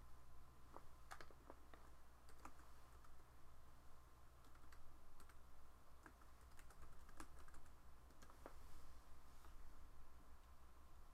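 Quiet, steady typing on a computer keyboard, keys clicking in an irregular run close by with no talking.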